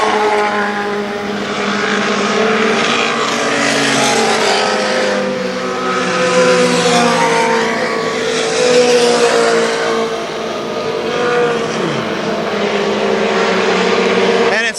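Several race cars circle Kil Kare Speedway in Dayton, engines swelling and fading in waves as the pack passes, with one car moving around another, loud and sustained under a commentator talking.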